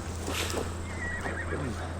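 A horse neighs in Assassin's Creed Valhalla, a whinny over steady game music and ambience with faint hoof clip-clop, moderately loud and close.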